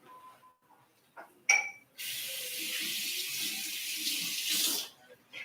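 Tomatoes are rinsed under a running kitchen tap: after a few small clinks and a short vocal sound, water gushes steadily for about three seconds, then stops.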